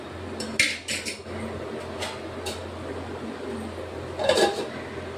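Metal utensil scraping and clinking in a pan as vegetables are mixed on a low gas flame, a few sharp clatters near the start and a louder clank of a lid set down near the end, over steady kitchen hum.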